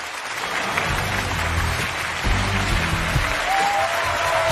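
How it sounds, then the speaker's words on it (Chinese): Studio audience applause on a Chinese relationship talk show as a couple is welcomed onto the stage, a steady dense wash of clapping, fairly loud and continuous, with a faint tonal element near the end. "掌声有请这一对，有请"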